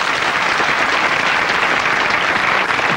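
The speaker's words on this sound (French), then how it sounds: "Je vous demande d'applaudir Michel Thiron." Dense, steady studio audience applause on a French television talk show, loud and continuous for the full stretch with no voices on top.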